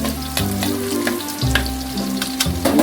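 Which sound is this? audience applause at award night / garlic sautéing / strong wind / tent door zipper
garlic sautéing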